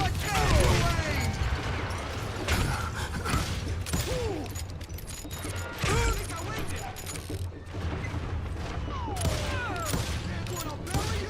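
Repeated gunshots from Old West revolvers and rifles in the video game Call of Juarez: Gunslinger, dense and busy throughout, mixed with clanking game effects and music, with no voices heard.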